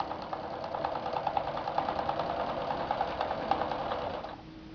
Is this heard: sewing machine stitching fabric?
yes